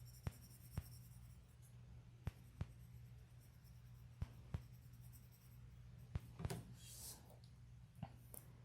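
Graphite pencil shading on paper while drawing a nose, a soft continuous scratchy hiss broken by sharp ticks as the pencil lifts and touches down, with a brief denser scribbling burst near the end; close and quiet, no talk.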